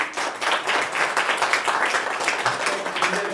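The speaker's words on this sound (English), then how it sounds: "Let's give them a round of applause." An indoor audience applauds a panel at a building codes event, dense steady clapping from many hands at close range that continues for several seconds without any speech.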